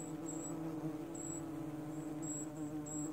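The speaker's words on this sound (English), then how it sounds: "that's the sound of a defensive hive." Steady, dense buzzing of a defensive honeybee hive close by, a continuous droning hum with a few high whining tones drifting over it, in January in Newfoundland.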